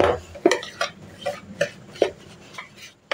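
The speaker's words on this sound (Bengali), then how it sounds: "এটাকে এখন একটা হুইস্কারের সাহায্যে ভালো করে ঘোরাবো।" Yogurt whisked with a wire whisk in a bowl, giving a steady rhythm of soft wet strokes and light metallic taps, close and fairly loud, with no talking.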